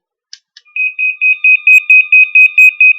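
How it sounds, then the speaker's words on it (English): A Screaming Meanie alarm in a truck cab sounds a loud, piercing electronic tone in rapid repeated pulses, preceded by a couple of short clicks, alone with no talk. "That's a Screaming Meanie. It's an alarm."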